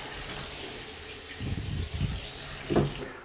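Water runs from a kitchen faucet in a steady close hiss, with a few heavier splashing gushes into the sink toward the middle and end.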